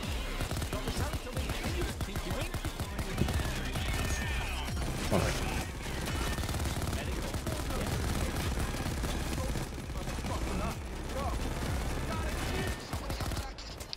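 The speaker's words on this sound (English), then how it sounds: "My weapons sound like a blade turret." Sustained automatic gunfire in the heist shooter Payday 2, with long rattling volleys, mechanical clatter and occasional crashes filling the scene at steady loudness, overlapping one another throughout.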